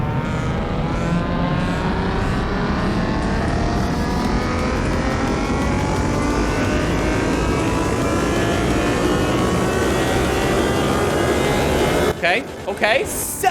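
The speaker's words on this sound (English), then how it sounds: "Yes, I would like to dyno the car." A Nissan GTR engine in the video game Car Mechanic Simulator 2021 revs on a dyno, a loud, sustained climbing roar that rises steadily in pitch for about twelve seconds before cutting off sharply near the end.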